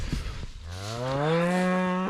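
A heifer gives one long, loud, close moo that swells and holds steady after a couple of brief thumps at the start.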